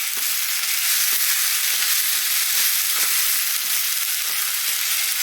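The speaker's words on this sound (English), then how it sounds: "I want to stir and fry because I don't really want everything to catch on the bottom" Onions fry in hot oil while being stirred, a dense, steady sizzle with soft scraping strokes of the stirring recurring every half second or so, close and constant with no voices.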